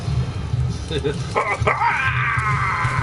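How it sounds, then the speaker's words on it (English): A hostile dog in the video game Resident Evil 5 yelps and whimpers in short high cries, mixed under game noise and louder ongoing talk from players. "Wait, I got this dog chasing me."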